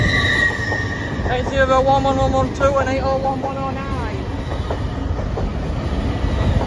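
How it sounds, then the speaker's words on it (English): Trains at Doncaster station pass with loud squealing wheels, rhythmic clickety-clack over rail joints and a steady rumble, while people talk briefly nearby. "Oh, we've missed a fast train."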